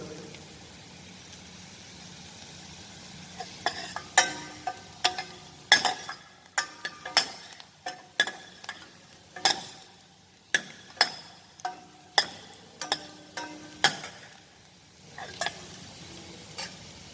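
A ladle stirs vegetables in a pot of broad bean soup, knocking and scraping against the metal in a steady run of sharp, regular strokes over a low sizzling bed, loud and close, with no talking.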